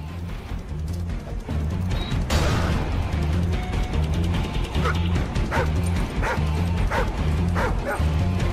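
A dog in Call of Duty 4: Modern Warfare barks and yips repeatedly in a rapid, rhythmic series, loud and close, with gunfire and game noise mixed underneath.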